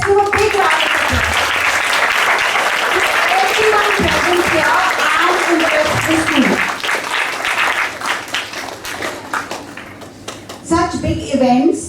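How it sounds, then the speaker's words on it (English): Audience applause at a school award ceremony, a sustained dense clapping crowd heard under an amplified voice addressing the audience, then fading into scattered claps as talk continues. "So let's give a big round of applause"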